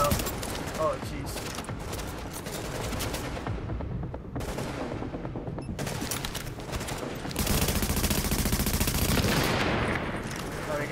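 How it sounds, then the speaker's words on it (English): A grenade explosion and bursts of gunfire in The Division video game, loud rapid automatic fire and booming blasts filling the whole stretch with brief pauses between volleys. "That grenade did some work."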